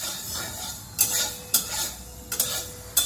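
Pieces of katla fish frying in a pan, a soft sizzle under several sharp scraping clinks of a utensil stirring or turning the fish at irregular intervals.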